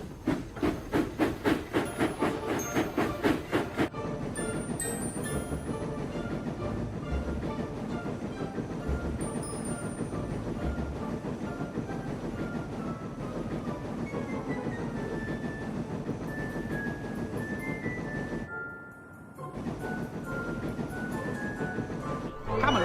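Steam engine train from Thomas the Tank Engine running steadily throughout, with rhythmic chuffing early on and a continuous rumbling hiss and rail clatter, mixed with background music and a brief dip near the end.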